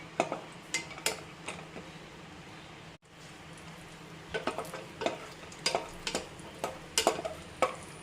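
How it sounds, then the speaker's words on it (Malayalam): Cashew nuts roasting in hot ghee in a pan, stirred with a metal utensil: irregular scraping clicks and clinks over a soft, steady sizzle, close and moderately loud, with no talking. "ഇനിയും ഈ നെയ്യ് ചൂടായി വരുമ്പോൾ നമുക്ക് കുറച്ച് ഈ കാഷ്യൂ നട്ട്സ് ഇട്ട് കൊടുക്കാം"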